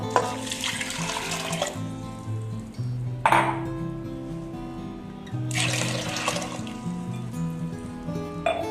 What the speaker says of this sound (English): And now we have to add sufficient water.